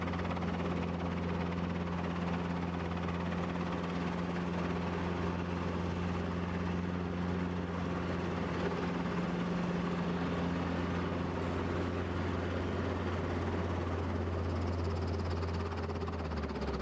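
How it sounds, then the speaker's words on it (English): Helicopter with its door removed flying through a rainstorm over flooded Kimberley country, a steady low rotor thump and engine drone holding level throughout, close and continuous with no voices. "Steve decided to steer the helicopter back over the land and find a clearing to safely land"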